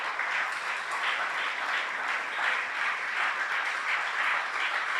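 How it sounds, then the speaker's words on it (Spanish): Church congregation applauding during a sermon, a thick, continuous roar of many hands clapping, steady and moderately loud for five seconds with no voices over it. "Dele un aplauso fuerte."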